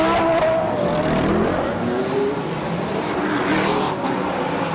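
GT1 race cars accelerating away from a rolling start at a Russian championship race, several engines roaring loudly together with rising revs and gear changes, cars passing close and receding.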